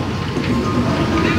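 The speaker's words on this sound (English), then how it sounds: "That's just a small little train ride that takes you around the trees over there." Small Jungle Express train ride at a large theme park near Rome, a loud steady rumble with faint rhythmic clatter throughout, heard up close.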